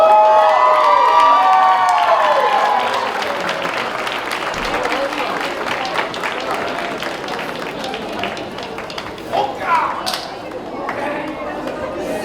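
Audience applause and cheering for senior performers at a cultural night showcase, a dense crowd clapping loudly at first then thinning, with voices and chatter mixed in throughout.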